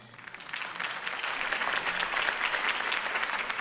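Crowd applause breaks out after a campaign speech in Batman: The Telltale Series, a dense, steady wash of clapping that swells within the first half second and stays loud and even to the end.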